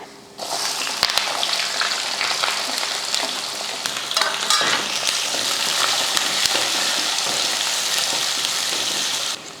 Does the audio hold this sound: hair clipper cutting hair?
no